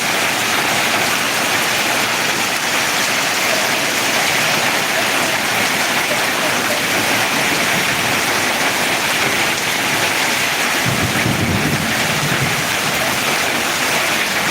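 Heavy rain pours steadily on surfaces in Ariyalur, a dense continuous hiss throughout with a brief louder patter or splash near the end, no voices.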